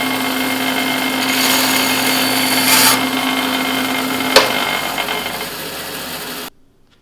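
A power tool cuts through a wooden dowel for a floating shelf project with a loud steady whine, a brief rising rasp as it bites, then a sharp snap before it cuts off into silence.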